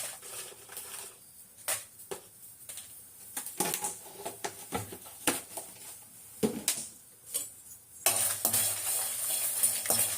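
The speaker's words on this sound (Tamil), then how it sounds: "பூண்டும் பெருங்காயமும் கொஞ்சம் நல்லா வறுப்படட்டும்." Garlic, asafoetida and dried red chillies fry in hot oil, a crackling sizzle broken by frequent sharp scrapes and clinks of a spoon against the pan, swelling into louder continuous frying toward the end.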